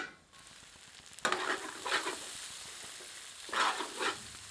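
Dry chana dal cooks on low heat in a pan, a low hiss rising into several loud bursts of sizzling as it is stirred, roughly three or four stirring strokes.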